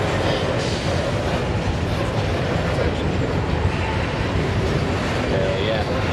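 A freight train hauled by classic locomotives rolls past on a CN line near Homewood, Illinois, a loud, continuous, close rumble and rattle with voices audible over it.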